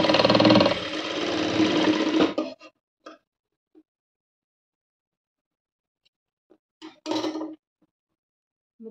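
A sewing machine runs a quick burst of stitching on a high-neck sleeveless blouse, loud and close for about two seconds, then stops; scattered clicks and handling noises follow in near silence.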